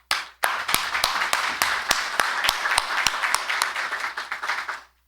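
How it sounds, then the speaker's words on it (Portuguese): Councillors applaud artisans during a city council session in Caxias do Sul, a close round of clapping with sharp individual hand claps standing out, lasting about four seconds before stopping abruptly. "peço dos vereadores uma salva de palmas para elas"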